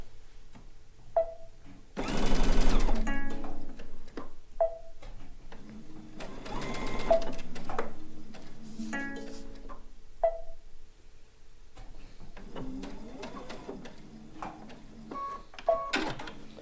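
Sewing machine stitching a Kaffe Fassett blue and white quilt top, several rapid mechanical bursts of stitching separated by pauses, clicks and handling noises, running low on thread.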